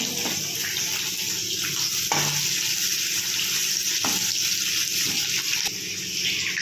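Onions sizzling in a pan for a Bengali paneer masala, a steady close frying hiss throughout with a few soft stirring scrapes, no talking.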